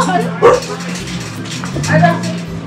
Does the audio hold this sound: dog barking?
yes